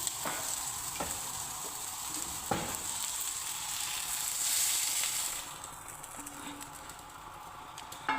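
Capsicum goes into chicken frying in a pan for Omani chicken mekhfus, giving a steady bright sizzle with a few stirring clicks. The sizzle swells for a moment, then settles lower and continues alone.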